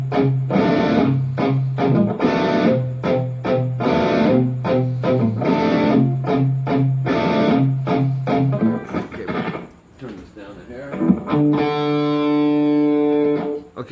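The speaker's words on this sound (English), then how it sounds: "distortion kicks in on this next part" Heavily distorted electric guitar plays a chugging, palm-muted riff from a song with rhythmic stops, ending on a sustained ringing chord.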